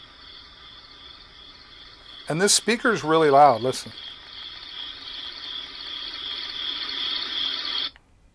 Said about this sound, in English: Nighttime with the crickets.